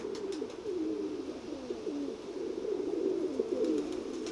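Soft, steady pigeon cooing continues throughout, low and rolling, fairly close with a faint background hiss.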